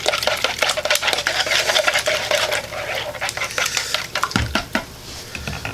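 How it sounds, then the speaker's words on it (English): Eggs beaten in a bowl while making Spam breakfast fajitas, a fast, irregular clatter of the utensil against the bowl that slows and thins out near the end. "we'll just beat the eggs, get it all good and beat here."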